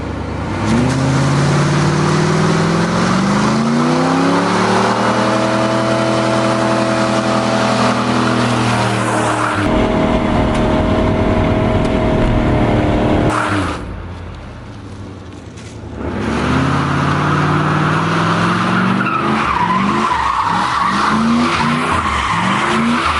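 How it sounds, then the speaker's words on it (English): A Pontiac Firebird Formula F-body does a loud burnout, its engine revving hard with shifting pitch over screeching tyre squeal, then dropping off briefly before roaring back up, no talk over it. "Now we got to find out if it does a good burnout or not."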